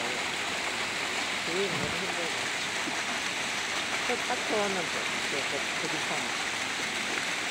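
Water rushes steadily along Jeongneungcheon, a deep, full stream, in a constant close wash. Voices chat over it.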